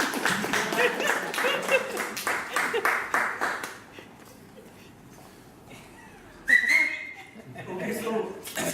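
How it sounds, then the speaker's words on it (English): A crowd applauds steadily at a Toastmasters club meeting, the clapping strong for about four seconds before fading, followed by quiet room murmur and a brief burst of voices and a whistle-like cheer. "So give a big round of applause, Toastmaster Dinesh."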